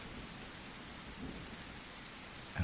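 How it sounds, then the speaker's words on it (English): Rain falling in the video game The Isle, a soft, steady wash of drizzle with a faint low rumble and a brief thump near the end. "only listen to the rain"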